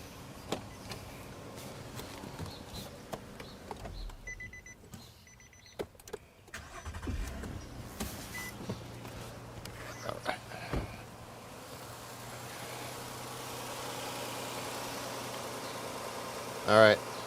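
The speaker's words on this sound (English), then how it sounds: "I want to restart this car" A 2010 Nissan Maxima with a P0171 lean fault cranks and restarts, then settles into a low, steady idle hum that continues to the end; a few clicks and shuffles come before it, with some talk early on.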